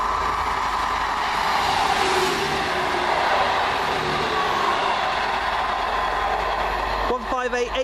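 An Arriva Trains Wales service bound for Birmingham International passes near Adderley Park, a steady loud rumble and rush of rail noise throughout, ending with a brief voice.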